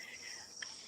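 Crickets chirp faintly in a high, steady buzz with a brief brighter trill, heard alone at low level.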